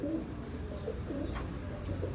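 Soft, low cooing from striped and cross-bred pigeons kept by hobbyists, faint murmurs repeating under steady, noisy outdoor ambience with a few light chirpy sounds.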